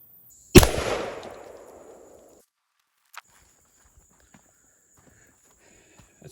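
A Beretta 1301 shotgun fires a single slug at a steel plate 25 yards away. One sharp, loud report rings out and decays over about two seconds. Faint clicks follow in otherwise quiet surroundings.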